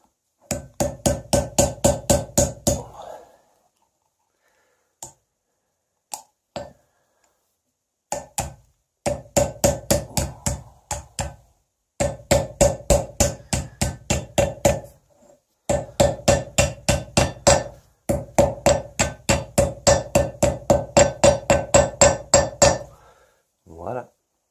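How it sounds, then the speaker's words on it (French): Gentle, rapid hammer strikes on a steel part resting on an anvil while reconditioning a hydraulic cylinder, ringing metallic taps in several long bursts separated by short pauses, close and fairly loud. "je vais aller sur mon enclume, puis je vais juste la marteler doucement pour l'acier comme il faut dans sa roue"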